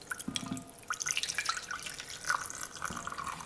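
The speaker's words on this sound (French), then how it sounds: "Et on va aussi ajouter de l'eau." Water poured into a cooking pot holding pulled pork, a steady close trickle and splash with small drips, moderately loud and without speech.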